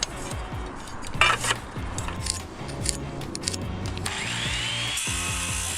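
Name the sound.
old saw trimming tops of wooden posts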